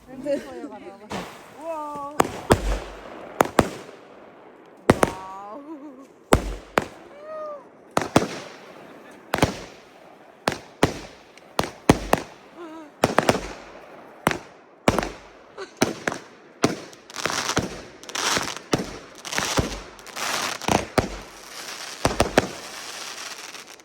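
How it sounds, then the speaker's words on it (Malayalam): Fireworks and firecrackers go off at a New Year celebration in a long series of sharp bangs and crackles, some near and loud, others more distant, while people's voices are heard among them. "അവിടെയും ഫയർ വർക്ക് ഒക്കെ നടക്കുന്നുണ്ട് ദൂരത്ത്."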